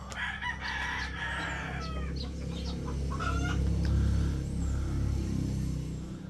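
Rooster crowing amid steady chicken clucking in breeding pens on a native chicken farm, several birds calling close by over a continuous low barnyard hum, no voices.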